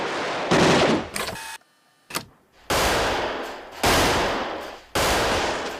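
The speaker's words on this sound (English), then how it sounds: "The actual firing, they sweetened the hell out of that with so many other guns" RoboCop's Robo gun firing effect from the film, built up with layers of other guns: loud sustained bursts of rapid automatic fire, four long blasts separated by brief gaps, with a short mechanical rattle in between.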